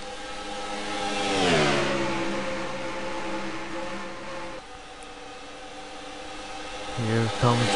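Race cars accelerating off the green flag at the start of an iRacing convertible series race at Pocono, engines revving and rising in pitch together as a loud pack, with a commentator talking over them throughout.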